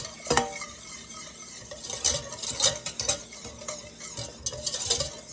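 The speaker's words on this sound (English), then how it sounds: "So I'm gonna whisk this in to combine." Whoopie pie batter being whisked after baking soda is added, a steady run of close, scraping whisk strokes against a bowl with small clinks, alone with no talking.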